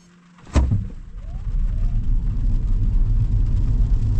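Hyundai Inster Cross accelerating hard on a test run, with a sharp click at the start and then a steady, loud low engine and road rumble that builds and holds from inside the cabin.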